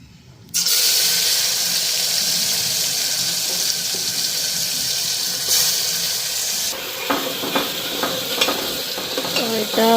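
Spice paste sizzles in a pan, a loud, steady frying hiss that starts abruptly and holds throughout, joined later by light scraping and stirring clicks close by.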